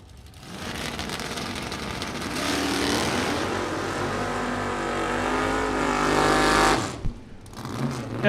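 Drag race cars, a 1973 Duster and a 1975 Camaro, launching at a Super Pro bracket event, with loud sustained engine roar building over several seconds before dropping off sharply near the end.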